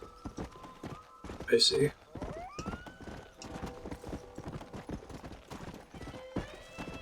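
Horse hooves clip-clop along a trail in the video game Red Dead Redemption, with a short whinny early on, all under a man's speech and game music.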